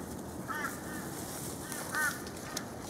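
Crows caw faintly in the distance outdoors on a warm overcast day, two short bursts of calls about a second and a half apart over steady background noise.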